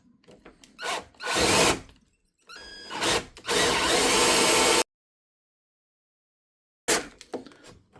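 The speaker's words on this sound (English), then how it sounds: "So now let's drill our hole going through here." A power drill whirs in several bursts, revving up and boring a hole through a wooden interior door, then stops for a moment of silence before starting again.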